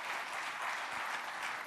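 Brisk, dense applause from an indoor audience at a swearing-in ceremony for new Pentagon Force Protection Agency police officers, steady and fairly close throughout without a voice over it.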